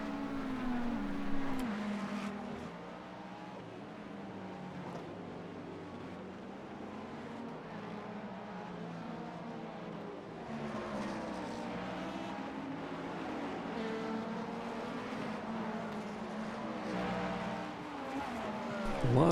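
Race cars in an IMSA race in a video game, including BMW and Cadillac hypercars, drone on with steady engine roar and shifting pitch, moderate and somewhat distant, with a louder pass at the end.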